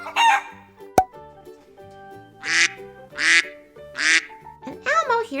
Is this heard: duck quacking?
yes